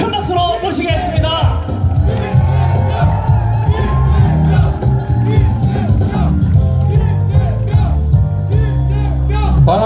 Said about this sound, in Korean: 여러분 이재명 경기도지사 후보님을 큰 박수로 모시겠습니다